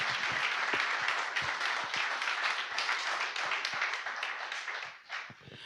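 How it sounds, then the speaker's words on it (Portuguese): A church congregation applauds during a sermon, a dense, steady wash of many hands clapping that carries on throughout and thins slightly near the end. "Se o Espírito Santo já está falando com você, dá uma salva de palmas a ele."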